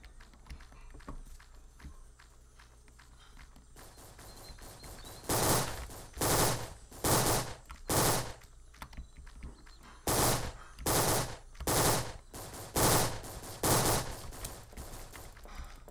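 Video game gunfire: a quiet ambient stretch, then a steady series of loud, evenly spaced shot bursts that pause briefly midway and resume before ending.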